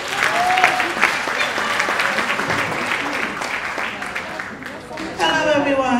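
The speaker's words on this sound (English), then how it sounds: "Clap them now," Applause from an audience at a music awards ceremony, a broad steady wash of clapping with shouts and talk mixed in, a brief dip near the end before it swells again.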